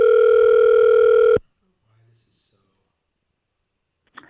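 A telephone dial tone plays as a steady, loud electronic hum for over a second, then cuts off abruptly into near silence, with only a faint murmur and a click at the end.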